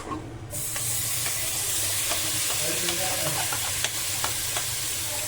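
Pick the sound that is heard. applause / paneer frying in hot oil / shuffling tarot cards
paneer frying in hot oil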